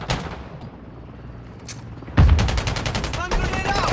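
Gunfire and grenades in the Call of Duty Mobile video game: scattered shots, then a heavy blast opening into a rapid, loud burst of automatic fire that continues to the end.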